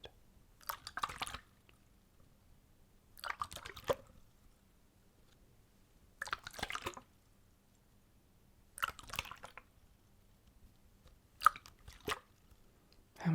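Water sloshes around inside a bottle in about six separate short bursts spaced a few seconds apart, close and quiet, with silence between shakes.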